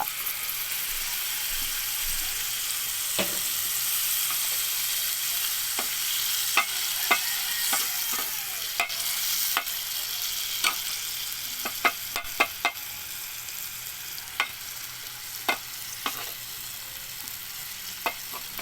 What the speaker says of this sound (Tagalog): Try nating maluto ng maigi yung ating bagong isda.